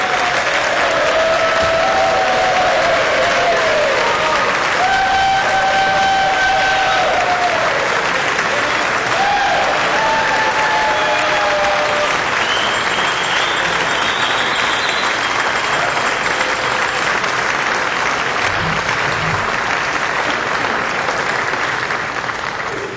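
Sustained applause from legislators and guests during a House floor session, filling the whole stretch at an even level, with scattered faint voices and whistle-like tones mixed into the crowd noise.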